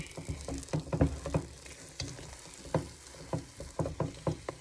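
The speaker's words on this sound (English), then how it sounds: "You're going to stir it up real good." A thickening snack mixture being stirred in a pan, with a faint sizzle under repeated soft scraping and sloshing strokes in an uneven rhythm, close and fairly quiet.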